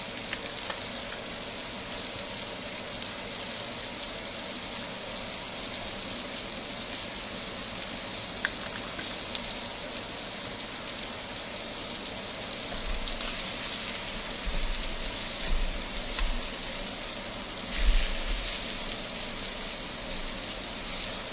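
Steak coated in chili garlic seasoning sizzles loudly and continuously in a hot pan, a dense rain-like hiss with a brief louder crackling flare toward the end.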